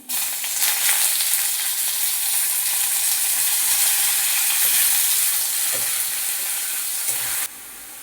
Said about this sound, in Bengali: এখন চিকেনটাকে কষে নেবো একটু